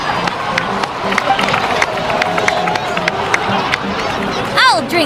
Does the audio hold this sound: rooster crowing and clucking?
no